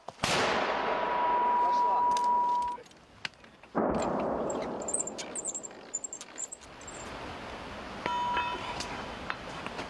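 Mortar rounds fire with loud booming blasts near Chasiv Yar, each followed by a long fading rumble, with shouted commands in Ukrainian and a high tone at moments.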